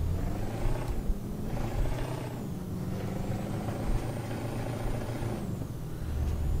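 A truck rumbles in Euro Truck Simulator 2, a low droning engine with shifting pitch and hissing air-brake releases over steady road noise, close and continuous with no talk.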